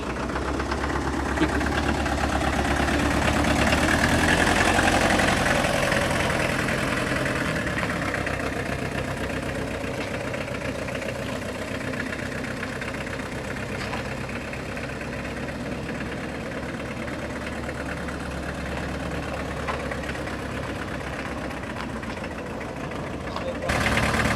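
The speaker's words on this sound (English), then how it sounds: "put it in G gear actually is best, and then just let it go around and idle pretty much" A VW T3 Syncro van's engine idles steadily in G gear, a low, continuous rumble with mid-range mechanical noise that holds at an even level throughout.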